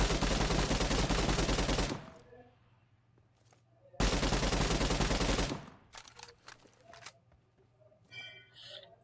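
A mobile shooter video game plays two long, loud bursts of continuous automatic gunfire, each about two seconds. Quieter game clicks fill the gaps, and a voice talks briefly near the end.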